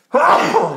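A single loud, close sneeze from a participant in a German sitcom-discussion podcast, a sharp burst that fades over a fraction of a second, alone with no talk over it.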